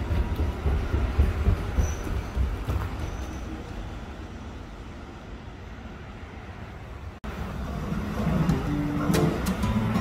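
Amsterdam metro train running, a steady rumbling roll of wheels on rails with faint squeals, a brief cut, then louder clattering and higher whines as the train continues.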